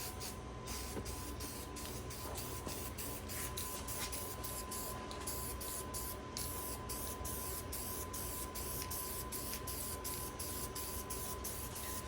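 Spray painting coats of orange paint, a steady close hiss of the spray running without a break for the whole stretch, with no talking.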